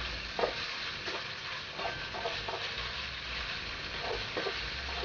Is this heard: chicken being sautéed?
yes